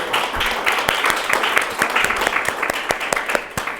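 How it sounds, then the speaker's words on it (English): Audience applause at a National Trust Fund event, a dense steady burst of many hands clapping close by, with speech mixed in. "Let's give them a big round of applause."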